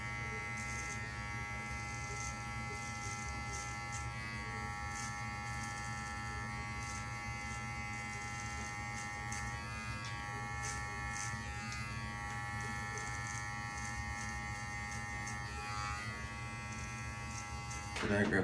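Electric hair clippers fitted with a 1.5 guard buzz steadily and close up as they cut hair during a high taper self-cut, a constant electric hum with small shifts in tone.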